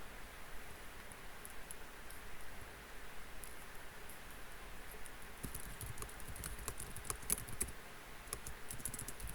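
Quiet keyboard typing during an online community meeting in a virtual world, a steady soft patter of keystrokes with a few sharper clicks near the end, faint and close over a low background hiss.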